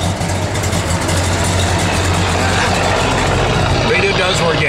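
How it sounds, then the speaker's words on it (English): A 1969 Dodge Coronet R/T's 440 V8 idles steadily and loudly at close range, a continuous deep rumble that stays even throughout. "Good sounding 440"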